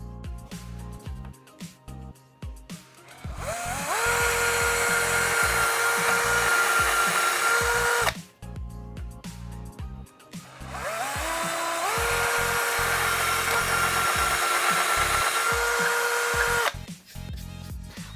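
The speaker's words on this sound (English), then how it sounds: "we're ready to drill the final 2 holes" A power drill bores holes to mount Venetian blind brackets, running in two sustained bursts of about four and six seconds each, whining steadily and close up with a rising pitch at the start of each run.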